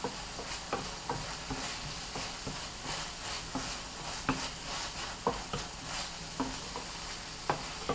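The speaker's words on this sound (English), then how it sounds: "You're going to give it a good stir up" A spoon stirs an onion dip mixture in a bowl, giving soft scraping and a series of sharp, irregular clinks against the dish, close and fairly quiet, with no talking.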